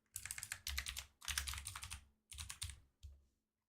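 Quick clattering keystrokes on a computer keyboard come in several bursts with short pauses between them, close and alone.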